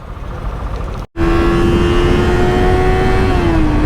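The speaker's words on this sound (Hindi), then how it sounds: "बाइक की साउंड सुनो, बाइक एकदम रोर कर रहा है भाई इस टाइम" A motorcycle engine idles steadily and loud right after refuelling at a petrol pump, its low drone holding through a brief cutout before resuming and slowly dropping in pitch, on a road trip to Patnitop.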